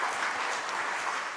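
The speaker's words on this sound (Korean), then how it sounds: "박수 한번 합시다" A church congregation claps steadily in a dense, sustained round of applause filling the sanctuary, with no voices standing out.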